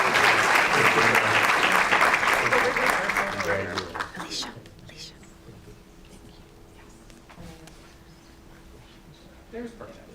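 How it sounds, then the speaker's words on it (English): Applause at a school board recognition meeting, a dense roomful of clapping that stays loud for about four seconds and then tapers away, leaving a quiet room with faint murmurs. "Let's give him a round of applause."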